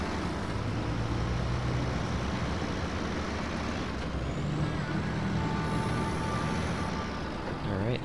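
A heavy tow truck's diesel engine rumbles steadily in the SnowRunner truck-driving game, with hissing air brake releases and a brief high tone, while someone talks faintly in the background.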